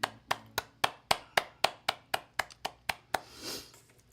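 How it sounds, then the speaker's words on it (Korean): A congregation at a church worship service claps in slow, even unison, giving about fourteen crisp, evenly spaced claps at moderate distance that fade into a soft rustle. "하나님께 영광의 박수 올려드리겠습니다."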